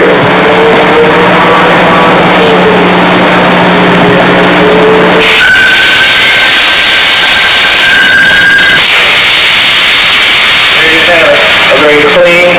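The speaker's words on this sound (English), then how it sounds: "We're going to close this gate on this material and witness how it slices through" A WEY shear gate valve closes on 410 stainless steel seat material hardened to Rockwell C45: a loud mechanical hum and rumble with steady tones, then a sharp shift to a high hiss and whine as the gate shears through, with a squealing tone near the end.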